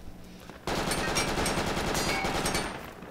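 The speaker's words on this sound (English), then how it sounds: "I'm hearing a good amount of enemy weaponry." Enemy gunfire in a first-person shooter video game, a loud, dense burst of automatic fire that starts abruptly and rattles on continuously up close before easing slightly at the end.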